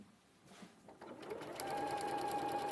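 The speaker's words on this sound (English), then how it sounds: "Sewing this piece in." A sewing machine stitches fabric, starting softly and building into a steady, close, continuous whir of rapid needle strokes.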